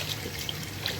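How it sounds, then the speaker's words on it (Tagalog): Water pours or trickles into a cooking pot while making Filipino chicken stew with tomatoes, a soft steady trickle lasting about a second, fairly quiet, with no talking. "maglalagay na tayo ng water"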